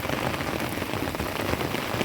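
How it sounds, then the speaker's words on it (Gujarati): Heavy rain pours down outdoors in a loud, dense, unbroken roar of drops striking surfaces up close, with no voices. "બાકી વરસાદ પડે ભૂકા કાઢે એવો."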